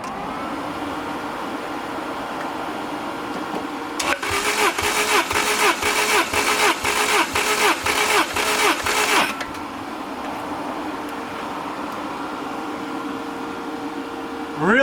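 The engine of a turbocharged Lotus Elise with a 2ZZ motor cranks over on the starter during a compression test, a loud rhythmic chugging burst of about five seconds set between quieter steady background hum.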